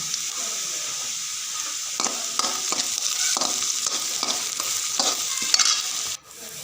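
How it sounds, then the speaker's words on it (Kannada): Chopped onions frying in hot oil, a constant bright sizzle broken by a string of scraping stirs at a regular pace, close up, ending in a short clatter and a brief drop. "ಎಣ್ಣೆ ಬಿಸಿಯಾದ ಮೇಲೆ ಕಟ್ ಮಾಡಿದ ಎರಡು ಈರುಳ್ಳಿಯನ್ನು ಹಾಕೊಳ್ಳಿ ಈರುಳ್ಳಿ ಸ್ವಲ್ಪ ಫ್ರೈ ಆದ ಮೇಲೆ ಕರಿಬೇವು"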